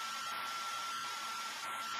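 Hot-air hair dryer running steadily, a constant moderate whooshing hiss with a faint motor whine and no talking.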